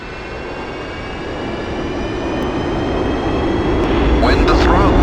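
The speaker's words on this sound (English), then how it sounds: "fuel is supplied to the engine and will reach idle RPM within 35 seconds" An F-5E jet engine in the DCS flight simulator spools up toward idle RPM, its rumble and thin whine swelling steadily louder over several seconds, with a brief voice near the end.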